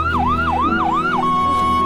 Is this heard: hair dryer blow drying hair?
no